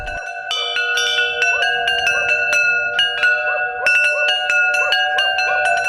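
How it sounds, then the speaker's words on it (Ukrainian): Church bells of Holy Trinity church ring in a continuous peal, several bells struck in quick overlapping rhythm with long ringing tones, loud and steady throughout. "Передзвін сповнює тіло людини благодаттю, змушує зупинитись на мить та відкрити своє серце для добра і любові."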